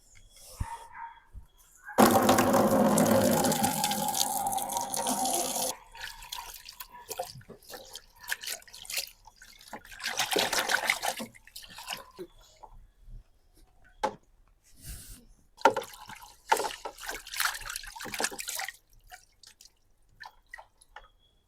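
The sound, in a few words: washing mudakathan greens in water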